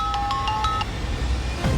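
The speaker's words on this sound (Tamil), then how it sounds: "அவர்தான் ஃபோன் பண்றாரு." An incoming-call ringtone chimes from a phone in a Tamil TV drama scene, a short melodic run of bright beeps followed by background room noise, with no talk.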